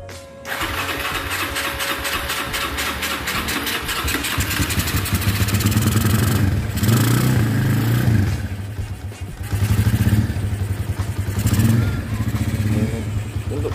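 A Honda Tiger motorcycle engine starts after a throttle cable change and settles into a loud, close, rough idle with a few throttle blips partway through.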